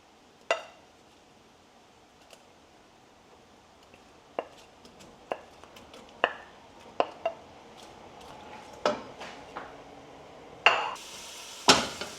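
Faint hiss of onions frying sits under repeated spatula scrapes and taps against a pan, coming every second or so and growing busier toward the end.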